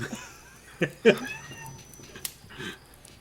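A person's voice imitates a small, high cat meow for a huge battle cat during a tabletop roleplaying game session, a few short squeaky bursts with other voices and laughter around.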